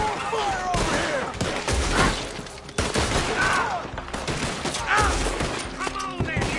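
A Red Dead Redemption 2 shootout crackles with rapid, overlapping gunshots near and far, loud and continuous, while voices call out faintly beneath the firing.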